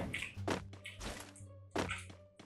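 Heavy footsteps in the video game Free Fire, a few dull thuds spaced unevenly over a steady low electronic hum.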